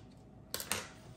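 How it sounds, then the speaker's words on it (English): A knife slicing through low-carb chipotle tortillas to make chips gives two short, crisp cuts close to the mic, with a quiet background around them. "I'm gonna go ahead and cut it right here"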